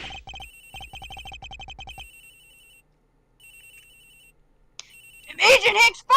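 A phone in Ace Attorney Investigations rings with rapid trilling electronic bursts, stops, then rings again briefly before a voice speaks loudly over the end.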